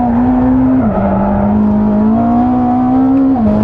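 A Ferrari SF90 Assetto Fiorano hybrid supercar accelerating hard, its engine a steady, loud, close drone whose pitch climbs gradually, dips at a gear change and climbs again before another shift near the end.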